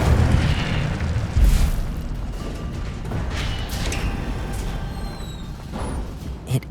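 An Incendio fire spell cast in Hogwarts Legacy bursts out with a loud, close whoosh near the start, then settles into a steady roaring rumble with a few fainter flares and no voices.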